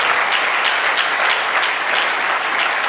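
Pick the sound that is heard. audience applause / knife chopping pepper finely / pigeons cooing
audience applause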